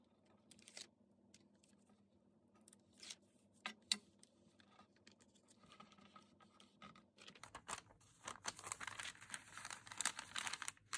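A paper envelope is folded up and closed by hand, giving faint close crinkles and scattered taps that turn into denser, louder rustling near the end, with no voices.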